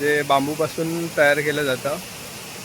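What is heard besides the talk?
No everyday noise stands out behind the speech.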